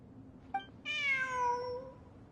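A cat in the video game Genshin Impact gives one short chirp followed by a longer, clear meow, close and distinct over a faint background hum.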